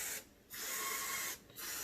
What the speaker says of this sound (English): I'm going to take the one shot. I'm just going to spray the barrel.